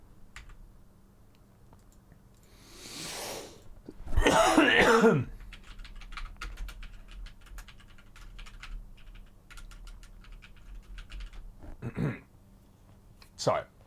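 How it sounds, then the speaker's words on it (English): A person coughs and clears their throat as if something is stuck, a few harsh close bursts, the loudest near the start, set against steady keyboard typing and clicks. "Sorry, coughing because something's stuck in my throat."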